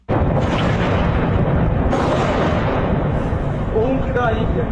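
A deep, rumbling boom that rolls on continuously, loud and distant-sounding, with people talking over it.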